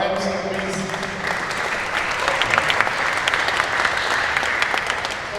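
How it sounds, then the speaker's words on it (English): An audience at a Mexican heritage celebration in Nashville applauds the MC, a sustained burst of many hands clapping that stays full and even throughout. "Just a round of applause for our MC,"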